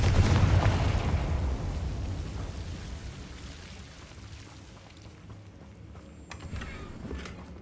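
A Confringo fire spell blast in Hogwarts Legacy opens with a loud, booming burst that rolls into a long, decaying rumble with crackling debris, and a softer thump near the end.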